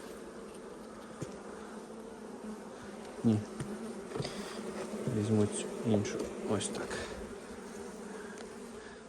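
Honey bees hum softly and steadily close by at a hive, with a few louder thumps and knocks as something is handled, and a person speaks quietly.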